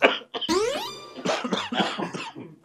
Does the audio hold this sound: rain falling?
no